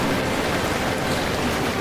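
Rain pours down in a Hindi cartoon story, a dense, even hiss of falling water that holds steady throughout the brief moment with no voices.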